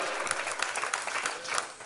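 A church congregation claps together in sustained applause, dense and steady, with a few voices mixed in.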